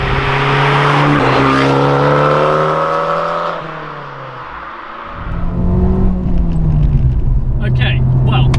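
An Abarth 595 Competizione driving on the road gives a loud, close engine drone whose pitch climbs and shifts with the revs, eases off midway, then builds again.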